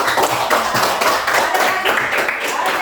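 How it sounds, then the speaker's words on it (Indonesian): A school class claps hands together in a classroom lesson, a brisk, fairly close patter of many small claps with a faint voice underneath. "Kita tepuk tangan dulu ya."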